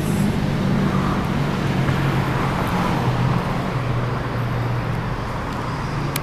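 Street traffic rolls along an axis avenue in Mexico City on a quiet Sunday, a steady broad roar of passing cars and engine hum, continuous and fairly close.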